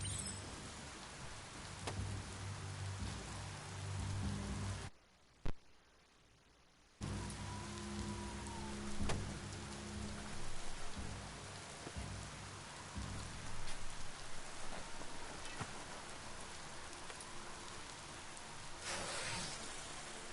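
Steady heavy rain falls in the video game Biomutant, a dense hiss that runs the whole time and briefly drops out near the middle. A soft rumble of thunder sits underneath the downpour.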